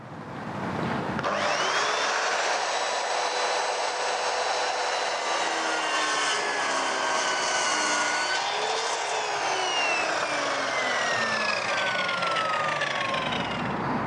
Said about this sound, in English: here we're going to cut from the other side, the brushed effect, down through the board